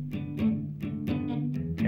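Electric guitar strumming the closing bars of a blues rhythm turnaround, rhythmic chord strokes about every third of a second, close and moderately loud, with no voice.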